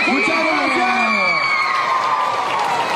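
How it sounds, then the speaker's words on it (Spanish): Audience at a live mall show in Panama cheering and applauding, a loud crowd roar with whoops and shouts, children's voices rising over continuous clapping. "Regalémosle entonces a Miguel Melfi un fuerte aplauso a Coco Loco."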